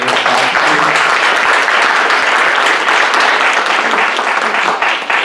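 Loud, sustained audience applause from a crowd at a Puerto Rico solidarity diaspora summit in New England, dense and steady throughout with no talk over it.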